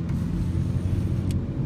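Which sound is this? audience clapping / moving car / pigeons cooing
moving car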